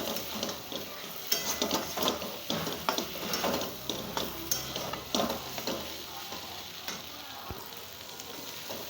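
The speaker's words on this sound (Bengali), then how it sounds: "এর মধ্যে এখন সয়াবিনটা দিয়ে ভালো করে সেটাকে নাড়াচাড়া করে হালকা একটু ভেজে নেব" Soybean chunks for an egg-soybean curry stir-frying in spiced oil. A close, steady sizzle is punctuated by rhythmic scraping and clattering strokes of stirring in the pan.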